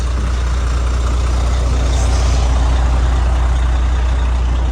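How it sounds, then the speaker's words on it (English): A motor coach's diesel engine idles loudly up close at a roadside stop in Nova Scotia, a steady low rumble with broadband mechanical noise that holds constant throughout, with no talk. "walk by the engine, it's gonna be kind of loud"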